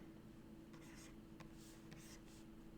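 Pen scratching across paper while a physics diagram is sketched, several short faint strokes over a steady low hum of room noise.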